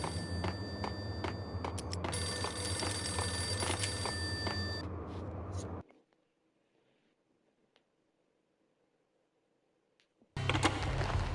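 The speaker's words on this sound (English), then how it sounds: "The payphone started to ring." A payphone ringing in the video game Max Payne, loud repeated electronic rings for several seconds, then near silence before the ringing resumes abruptly.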